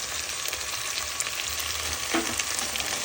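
Guyanese green seasoning sizzles steadily in a hot pan, a continuous close frying hiss with faint stirring scrapes throughout.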